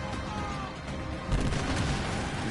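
Dense, booming ship cannon blasts and rumbling gunfire from a Skull and Bones naval battle, with a heavier volley surging in about halfway through.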